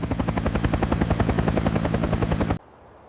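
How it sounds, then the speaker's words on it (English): A helicopter's rotor thumps in a fast, loud, steady rhythm close by, flying over Chernobyl's Reactor 4 in 1986, then cuts off abruptly near the end. "Helicopter crews flew directly over Reactor 4, dropping materials to help contain the dangerous remains below."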